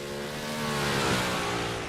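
Big block modified race car, the number 88 in a Dairy Queen paint scheme, roars past in a sustained loud engine note that swells toward the middle and stays steady, with no talk over it.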